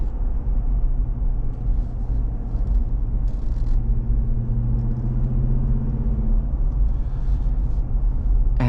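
A 2026 Ram 1500 Laramie with a 5.7L Hemi V8 on the road, its engine a deep steady rumble with a low droning hum under road noise from inside the cab.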